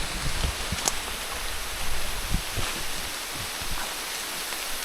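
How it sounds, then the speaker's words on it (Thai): Steady rain hisses continuously, with a few scattered louder drops and taps close by. "ฝนตกนะเนี่ย"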